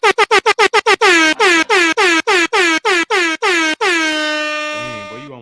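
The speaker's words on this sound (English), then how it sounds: "Where my air horn at so we can really pop off the way we're supposed to in this thing." Loud air horn sound effect blasting in a rapid run of about a dozen short honks, then one long sustained blare that fades out at the end.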